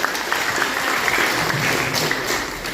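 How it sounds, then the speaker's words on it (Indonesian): A small audience claps at a sharing session on biofloc tilapia farming, with a brief burst of moderately loud, steady applause lasting a few seconds and no speech over it. "Tepuk tangan dulu"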